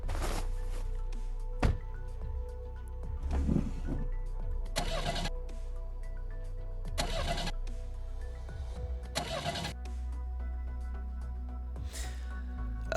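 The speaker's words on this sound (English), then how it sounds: "After several failed attempts to ignite the truck, the man slaps its dashboard vigorously and fiddles with the blinking buttons" An old modified truck's engine cranks repeatedly and fails to start, with several bursts of starter whirring separated by pauses over a low steady hum.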